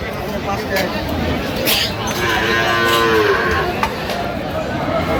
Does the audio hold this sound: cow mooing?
yes